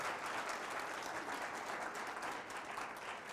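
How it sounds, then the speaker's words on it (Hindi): A church congregation at a New Year 2023 service claps together in thanks, a steady, even patter of many hands that sounds fairly soft and distant and carries on without a break. "क्यों ना ताली बजाकर प्रभु का धन्यवाद करें।"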